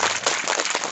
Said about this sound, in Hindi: पहले उनके लिए ताली बजाना पड़ेगा